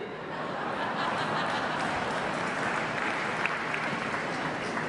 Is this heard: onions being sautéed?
no